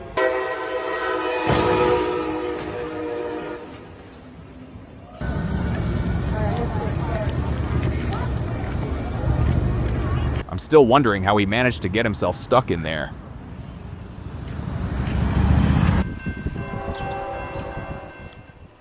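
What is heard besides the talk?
train passing on railroad tracks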